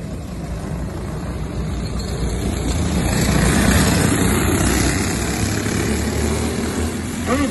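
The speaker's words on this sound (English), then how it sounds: "Sergeant Jake Simmons got that white flag out one more time around before we go green flag race" Several go-kart engines drone together at a green-flag restart on a short oval kart track, a loud, steady buzzing roar that swells toward the middle and stays dense throughout.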